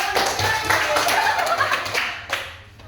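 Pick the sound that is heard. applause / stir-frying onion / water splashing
applause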